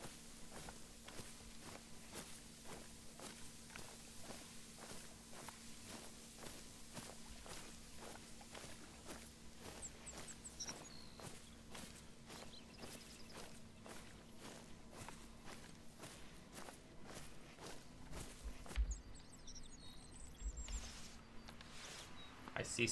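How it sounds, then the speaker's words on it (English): Footsteps sound in the hunting video game The Hunter: Call of the Wild, a long steady series of soft rhythmic steps, fairly faint, with occasional rustles and a brief louder knock near the end. "this game throws sounds in there designed to sound like footsteps"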